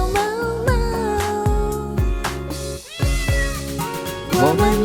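A singer voices playful cat meows within a cheerful Chinese pop song about learning to meow, the mimicked mews riding over a steady beat and bright synth backing, repeated in quick succession.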